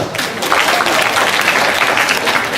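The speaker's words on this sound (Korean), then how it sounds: "박수 한번 칩시다." A room of school students clapping at a prayer-week assembly, a loud, dense burst of applause filling the whole moment without talk.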